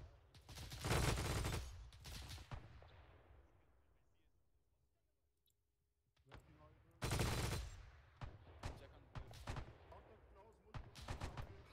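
Machine gun fire in a World War II Arma 3 battle: loud sustained bursts at the start, a quieter lull, then heavy automatic fire returning with repeated short bursts and scattered shots nearby.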